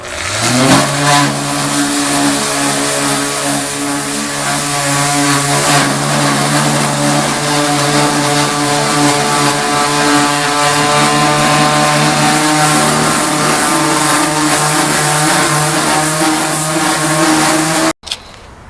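A power sander grinds rust off a pickup truck's chassis, a loud continuous whirring drone with steady harmonic tones holding for about seventeen seconds before cutting off abruptly, with no talking.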